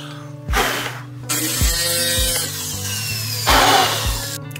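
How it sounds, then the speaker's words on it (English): A rotary tool grinds against carved stone in loud close bursts, whining and rasping with several sharp low thumps between passes, no voices. "getting the rotary tool in, just taking it down to that level"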